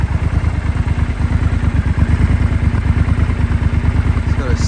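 A 2020 Triumph Scrambler 1200 XE motorcycle, fitted with a side pannier and rally-style pegs, runs at a steady idle with an even low-pitched throb that holds loud and close throughout, with no voices.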